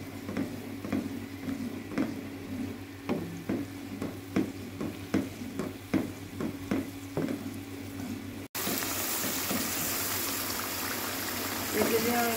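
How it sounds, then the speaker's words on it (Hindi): Masala with yogurt fries in a pan with repeated rhythmic stirring strokes over a low sizzle, followed by a louder continuous hiss of frying; no clear talk. "अब हम इसको अच्छी तरह भूनेंगे, क्योंकि जो दही के अच्छी तरह मिक्स हो जाए"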